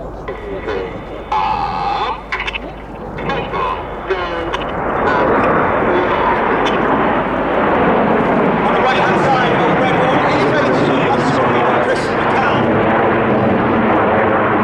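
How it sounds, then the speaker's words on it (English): A Supermarine Spitfire flying at an air show at Old Warden, its engine rising into a loud, sustained roar that fills the second half, with an announcer talking over the start. "this is the Spitfire."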